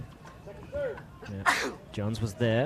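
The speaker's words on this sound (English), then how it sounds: "Gotta sneeze." A single sharp sneeze bursts out mid-conversation during a mixed doubles pickleball match commentary, loud and close, surrounded by ongoing talk before and after.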